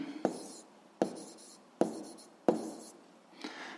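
A pen writes out a seventh-grade physics solution on paper, four distinct scratchy strokes in a regular rhythm, close and fairly quiet, with no talking.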